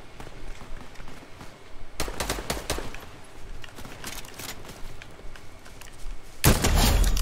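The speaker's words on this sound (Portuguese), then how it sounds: "Tá rolando um mó tiroteio aqui" Bursts of rapid gunfire crackle in a Fortnite match, dense volleys coming in waves over a continuous rumbling game background, with a louder close burst at the end.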